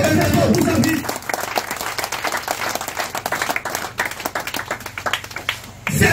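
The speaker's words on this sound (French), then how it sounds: "Acclamez Jésus." A church congregation at a Côte d'Ivoire mission service claps and cheers loudly and steadily in acclamation of Jesus, a dense continuous applause with voices shouting throughout.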